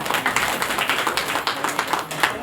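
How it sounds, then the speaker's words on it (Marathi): Kirtan audience clapping together in a steady, rapid rhythm, loud and close, with a faint murmur of voices underneath. "एकदा स्वतःसाठी टाळ्या वाजवा सगळ्यांनी"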